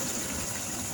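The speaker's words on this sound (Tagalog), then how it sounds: "Lalagyan tayo dito konting tubig." A short stream of water pours into a pot of simmering chicken and pork adobo, a steady close splashing gush filling the whole second with no talk.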